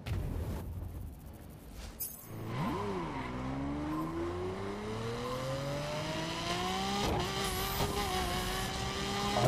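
A Lamborghini Aventador engine in the racing game The Crew roars loudly and revs steadily higher after a brief squeal, its tone climbing smoothly over several seconds, then dipping at a gear change before rising again.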